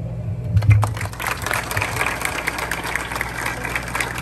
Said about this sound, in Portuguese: Hoje, os aplausos são de toda a família